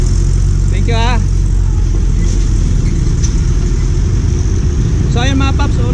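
A large truck engine runs loudly nearby in a steady, heavy low rumble throughout, with a couple of brief high warbling chirps over it.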